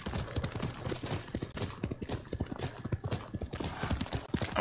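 Horse hooves clatter in a steady, fast galloping rhythm in Ghost of Tsushima, the beats loud and close throughout with a faint whinny-like trace in the mix.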